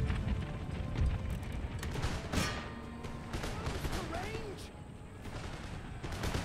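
Continuous battlefield din from Empire: Total War, with canister shot and musket fire crackling in rapid, overlapping volleys, one sharp nearer blast standing out amid sustained rumbling gunfire.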